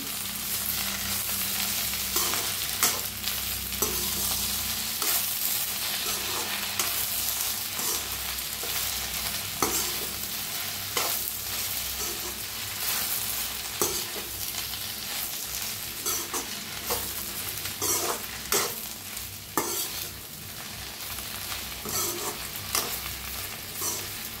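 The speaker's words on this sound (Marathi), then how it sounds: "आता ह्याच्यातच टाकूया भेंडी, थोडंसं मीठ टाकूया" Okra with salt fries in a pan of roasted masala, a continuous close sizzle broken by repeated scraping strokes of a spoon mixing it, with no talk throughout.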